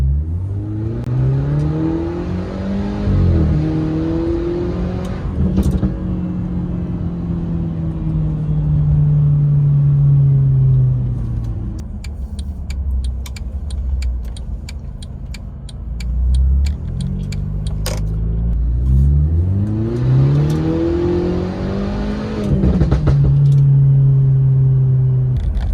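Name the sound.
loud Mercedes C200 engine revving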